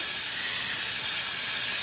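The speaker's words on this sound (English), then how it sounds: "And you spray this in one area" A steady, close aerosol hiss as a can of starting fluid sprays continuously for a couple of seconds onto a car engine to find a vacuum leak.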